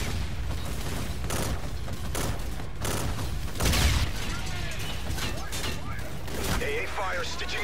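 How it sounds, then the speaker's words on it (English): Heavy anti-aircraft gunfire rakes an aircraft in a combat video game: irregular bursts of sharp impacts and metallic clatter, with a louder crashing hit partway through, over a constant low engine drone. "AA fire stitching us up. Jackals are taking heavy AA fire."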